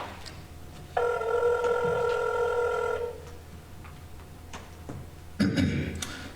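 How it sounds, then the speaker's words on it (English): Telephone bell ringing in an old-time radio drama, one sustained ring lasting about two seconds, then a quiet pause with faint clicks and a second short burst of ringing at the end. "Ringing the police department."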